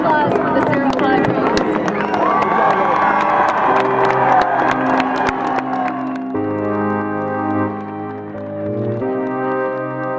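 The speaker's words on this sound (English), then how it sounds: "A round of applause for the Serra Athletics." Crowd cheering and clapping at a Serra High School football game rise loudly over several seconds, then give way to steady sustained music tones.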